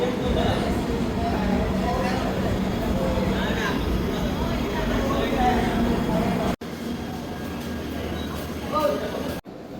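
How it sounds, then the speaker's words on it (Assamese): Rajdhani Express train arriving at a station, a steady broad rumble of rolling stock and platform crowd noise that fills the whole stretch, with people talking throughout. "ৰাজধানী আহি পাইছেগৈ"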